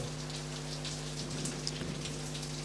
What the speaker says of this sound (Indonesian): di daerah saya ini Tangerang Selatan ini hujan, malah angin lagi